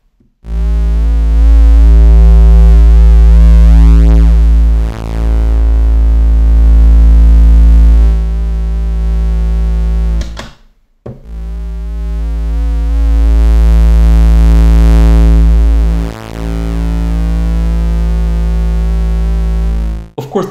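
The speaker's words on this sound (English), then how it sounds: "Similar to the distortion we get from the Strymon Deco." Two long, loud distorted notes from a Lyra-8 synthesizer through a Strymon Deco tape saturation pedal, thick and buzzy with warm tape-style saturation, separated by a short pause.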